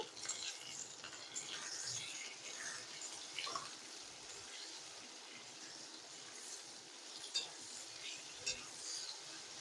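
Okra frying in a pan with salt and turmeric gives a steady, close sizzle with scattered crackles and occasional stirring scrapes.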